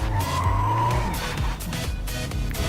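A loud diesel race car engine in the video game Race 07 roars and revs, with tires squealing and skidding over a continuous rumble.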